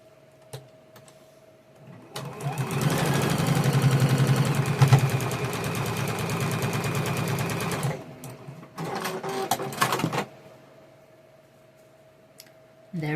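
A sewing machine stitches a quilt piece in one loud, steady run of rapid needle clatter lasting several seconds, then a shorter burst after a pause, with quiet moments on either side.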